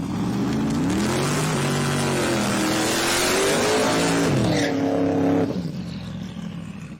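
Drag racing cars launch hard down the strip at a Sick Summer event, including a turbocharged Chevy Nova, with loud roaring engines, rising revs and tire noise filling the whole stretch before fading.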